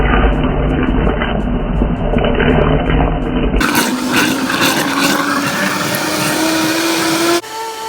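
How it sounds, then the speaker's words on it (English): A kitchen blender purees chile salsa, giving a loud, steady whirring roar that runs for several seconds, shifts pitch partway through as the contents loosen, then cuts off near the end, with no voices. "Okay, so we're gonna blend this."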